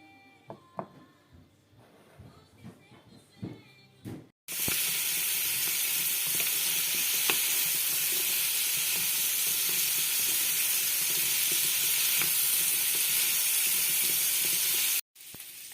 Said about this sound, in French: on va juste les faire rissoler au beurre